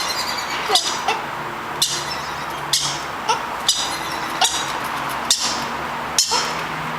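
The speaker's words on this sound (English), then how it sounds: "Green cheek conures. Beautiful little birds." Green-cheeked conures chirp in a repeated pattern of sharp, close calls roughly every half second to second, with no talking.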